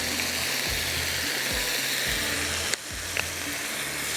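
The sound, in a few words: chicken frying with soy sauce added, sizzling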